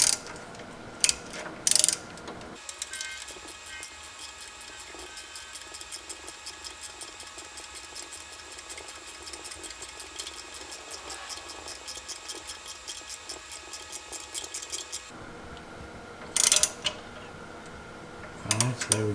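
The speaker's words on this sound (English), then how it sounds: "what this is doing is actually cutting threads into the metal itself" Thread tap cutting threads into metal for an exhaust gas temperature probe on a Ford 7.3 Powerstroke, a long, even run of fine rapid ratcheting clicks, close and moderately quiet, with a few louder knocks before and after.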